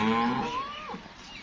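A Sahiwal-Jersey cross-breed cow moos once, a loud close call that starts low, rises into a drawn-out tone and drops away after about a second, with no talk.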